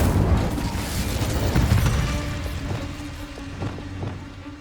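An Incendio fire spell is cast in the Hogwarts Legacy video game, a loud booming burst of flame at the start that rumbles and crackles, then gradually fades over several seconds.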